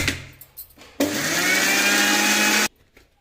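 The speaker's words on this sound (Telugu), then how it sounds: "మళ్ళీ కూడా మూత పెట్టేసుకొని మనం మిక్సీ అనేది పట్టుకోవాలా" A mixer grinder whirs loudly at high speed for under two seconds, grinding a homemade skin cream, then cuts off abruptly after a few faint knocks.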